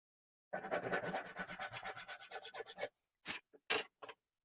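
A hand saw cuts a half lap joint in timber, making a steady run of rapid rasping strokes for about two and a half seconds, then a few separate short scrapes after a pause. The sound is close and clear, with no talk.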